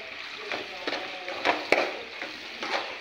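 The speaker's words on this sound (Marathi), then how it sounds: "आता आपण याच्यामध्ये झिंगे परतून घेऊ." Prawns sauté in a pan with a soft, quiet sizzle under several short scraping stirs, close up and with no voices.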